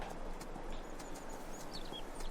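A horse's hooves beat quickly on the ground in Farming Simulator 22 as the rider gallops through bush. The galloping is fairly faint, with bird chirps scattered over the top and no talking.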